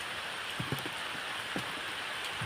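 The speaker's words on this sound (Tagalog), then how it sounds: "Maulan." Steady rain falls on a wet day outdoors near nipa palms, a constant close hiss with a few soft low thumps and no voices.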